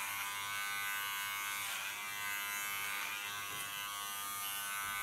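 Electric hair clipper cutting a short platinum blonde pixie haircut, a close, constant high buzz with slight shifts in pitch as it moves through the hair.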